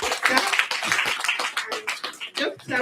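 Audience applause at a SACCO breakfast meeting: a dense, fairly soft patter of many hands clapping together, with voices mixed in.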